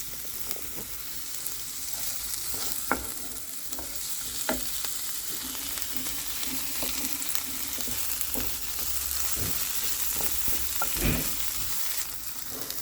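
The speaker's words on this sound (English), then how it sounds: "So my seasons are all cooked, sauteed and cooked." Vegetables and seasonings sauteing in a pot give a steady sizzle, broken by several sharp clacks and scrapes from stirring, with no talking.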